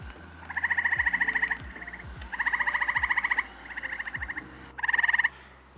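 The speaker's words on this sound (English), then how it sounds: "If you've never heard a gray tree frog duel, just sit back, relax, and listen to this." Gray tree frogs in Cambria County call back and forth in a duel, giving loud, close, pulsing trills in bursts that overlap and alternate, with lower croaks and clicks beneath.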